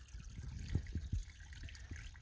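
Water runs and trickles into a water bag at a source along the Appalachian Trail in Shenandoah National Park, a soft, close gurgling flow with a few low glugs in the middle and no talk.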